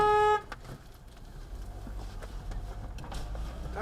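A car horn honks once at the very start, a short loud toot heard from inside a moving car, then road and engine rumble carries on steadily.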